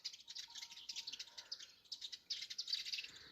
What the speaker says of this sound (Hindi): इसके अंदर बहुत चहचहाने की आवाज़ आ रही है पक्षियों की।